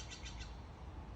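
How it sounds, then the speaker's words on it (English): Outdoors, a small bird gives three quick high chirps in a row, faint and slightly distant over a steady low background hum. "Heard a birdie."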